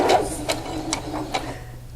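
Sewing machine stitching fabric along matched slits, a steady run of rhythmic needle ticks about every half second over a low motor hum, close and moderately loud with no talk.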